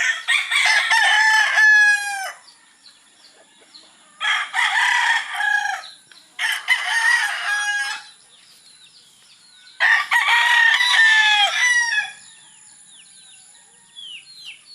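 A Sweater Gilmore gamefowl broodcock crows close by in a backyard breeding pen, with four long loud crows separated by short pauses and fainter crowing from other birds in the gaps.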